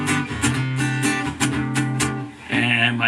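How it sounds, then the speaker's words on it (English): Hawaiian vamp strummed on guitar, a short bright chordal turnaround with steady rhythmic strums, close and alone with no talking. "The Hawaiian vamp in Hawaiian music always sounds like this"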